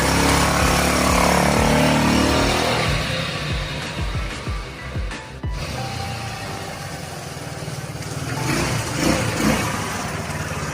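A Rusi Rapid150 motorcycle engine revs hard at first, then drops into uneven throttle blips and idle, and climbs again near the end; close and loud, with no talk.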